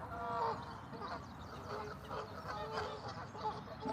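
Geese honk and cluck from a park island, faint and distant over steady outdoor background noise, with overlapping calls throughout.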